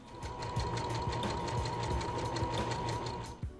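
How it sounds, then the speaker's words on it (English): A sewing machine top-stitches a slant pocket on a pair of culottes, running at a steady rapid chatter of needle strokes close up, then slowing and stopping at the very end. "that way you can do your top stitching"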